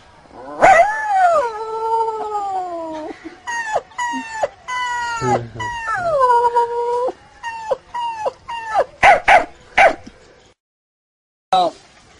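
A voice imitates a howling dog, with long wavering howls followed by short yelping cries and brief pauses.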